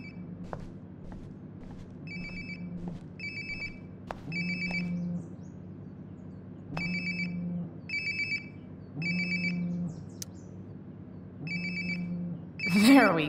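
A phone rings in the video game Life is Strange Before the Storm, repeating electronic ringtone bursts in a steady rhythm, alongside game background noise and a person speaking.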